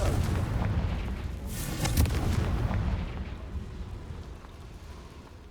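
A Confringo spell explosion in Hogwarts Legacy lands as a loud, rumbling blast with a sharp crackling burst near the middle, followed by a fading low roar.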